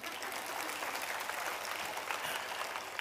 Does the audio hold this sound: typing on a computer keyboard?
no